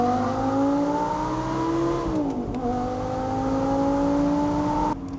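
An Audi R8 V10 Spyder's 5.2-liter V10 engine, shared with the Lamborghini Gallardo, climbs in pitch under acceleration, dips briefly at a shift, then rises again, heard loud and close from inside the car.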